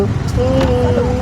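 Cars and buses climb a hill road up to the Annavaram Satyanarayana Swamy temple, with a brief, close engine and traffic rumble.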